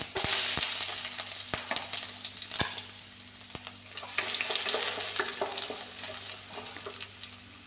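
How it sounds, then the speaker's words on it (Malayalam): Chopped garlic fries in oil with spluttering mustard seeds for a green tomato stir-fry, a loud, close, continuous sizzle broken by sharp popping crackles and occasional stirring scrapes. "കടുക് പൊട്ടി വരുമ്പോൾ നമുക്ക് അതിലത്തേക്ക് അരിഞ്ഞു വെച്ചിരിക്കുന്ന വെളുത്തുള്ളി ചേർത്ത് കൊടുക്കാം"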